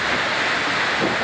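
Steady rushing water fills the clip, a broad continuous roar like surf or wind-blown waves, loud and close with no pauses.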